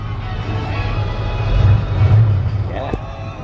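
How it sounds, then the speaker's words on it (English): A 1976 Ford F150 4x4 with a 360 2v V8 idles with a steady low rumble heard from inside the truck, growing slightly louder midway, while people talk over it. "Yeah, hear that motor."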